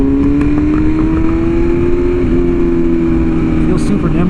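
A BMW S1000RR sportbike is ridden smoothly, its engine holding a steady, near drone with a slight dip in pitch midway, under constant wind rush.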